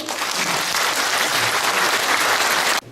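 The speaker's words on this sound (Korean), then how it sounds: "박수 한번 치시죠." Loud, steady applause fills the hall at a veterans' association inauguration ceremony, a thick wash of clapping that holds evenly for nearly three seconds and then cuts off abruptly.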